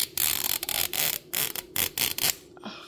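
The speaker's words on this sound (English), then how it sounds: "Look at that zip. Y'all hear that zip?" Zipper on a Mini Brands Retro capsule being pulled open in a series of quick, close rasping bursts with brief gaps, fairly loud and with no talking.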